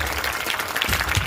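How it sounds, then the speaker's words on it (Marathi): Audience applause at a village event celebrating a locally written film, a short burst of steady clapping from a crowd filling the space, fairly close and continuous with no voice over it. "सर्वांनी एकदा जोरदार टाळ्या वाजवा त्याच्यासाठी।"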